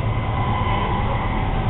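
A train rides on rails on a journey toward Copenhagen, heard from inside as a loud, steady low rumble with faint wheel tones and no break.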